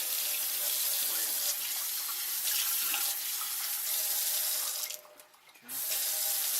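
Water pours steadily from a newly installed kitchen faucet into the sink, a close, loud hiss that cuts out briefly near the end before resuming.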